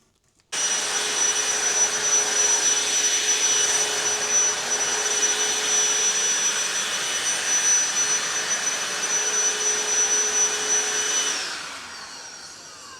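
A DeWalt vacuum cleaner runs steadily at close range with a loud, even motor whine and airflow hiss for about eleven seconds, then powers down and fades out near the end, with no talking.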